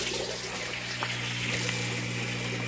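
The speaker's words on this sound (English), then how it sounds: "You can see it's starting to drop there now. So it started, the siphon started." Water draining through a U-siphon pipe as the siphon starts, a steady rushing, gurgling flow with a low hum beneath it, close and continuous with no talk.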